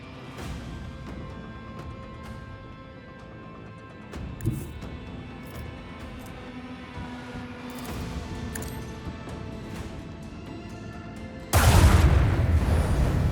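Starship torpedoes strike and explode in the Warhammer 40,000: Rogue Trader video game: a low, humming battle ambience with a dull thud partway through, then a sudden loud roaring blast that sustains to the end.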